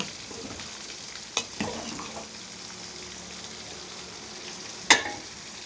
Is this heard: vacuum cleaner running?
no